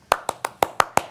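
A single person clapping in an audience, six sharp, evenly spaced handclaps close to the listener, with no other applause.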